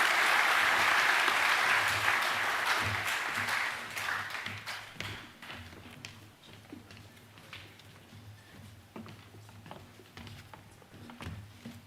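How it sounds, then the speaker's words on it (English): A school hall crowd claps for Year 12 academic award winners at a senior school assembly, starting as loud dense applause that thins into scattered individual claps and fades over several seconds. "Please give a round of applause for the Year 12 Academic A winners."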